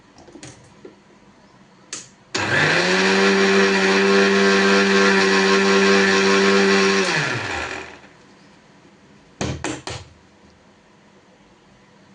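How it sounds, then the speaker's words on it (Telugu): A mixer grinder whirs loudly and steadily for about five seconds, grinding roasted peanuts with chili powder, then winds down, followed by a few short rattling knocks of the jar. "వేసుకొని మళ్ళీ ఒకసారి మిక్స్ పట్టేసుకుంటే సరిపోతుంది."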